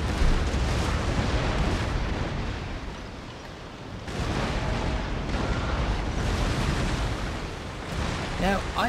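Naval cannon fire in Empire: Total War, with ship broadsides booming as a dense, continuous rumble of blasts that swell and fade, loud and close, while someone talks over it.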